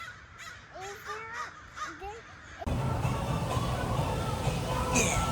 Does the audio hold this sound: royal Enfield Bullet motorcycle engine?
no